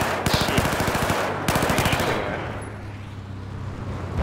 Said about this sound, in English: Appears to be a machine gunner operating north of your location.